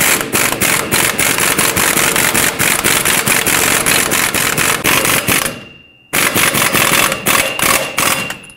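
An air impact tool tightens a 24mm ball joint nut on the front lower control arm of a 2007-2014 Chevrolet Silverado 2500 HD. It hammers in a loud, rapid rattling burst, pauses for a moment, then hammers again, close up.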